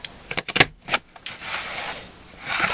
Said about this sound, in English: And let's cut this off.